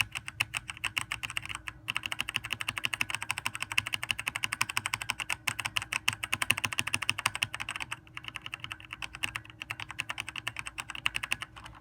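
Rapid, continuous clacking of keys on a Razer BlackWidow Ultimate Stealth mechanical keyboard, steady typing bursts with a brief pause or two, close and fairly quiet.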